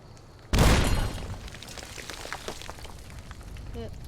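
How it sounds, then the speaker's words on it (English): A loud explosive video game boom erupts suddenly, then a rumbling, crackling tail of debris and blasts continues over steady background noise. "Many explosions."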